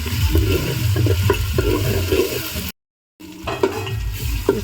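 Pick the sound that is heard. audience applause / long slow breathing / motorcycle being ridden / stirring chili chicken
stirring chili chicken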